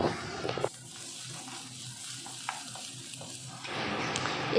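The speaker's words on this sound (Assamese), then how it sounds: "নহৰুখিনি অকণমান দেৰি ভাজিম" Ginger-garlic paste frying in hot oil gives a low, steady sizzle close by, with bursts of brighter noise at the start and end.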